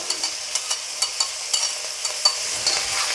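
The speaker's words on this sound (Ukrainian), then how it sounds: "тепер черга моркви" Onion and carrot frying in oil with meat for a soup, giving a steady close sizzle broken by light, regular stirring clicks from a utensil against the pan.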